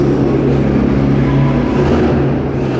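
A blacked-out BMW M5 engine idles and revs close by, a loud, heavy low rumble that holds steady with slight swells throughout.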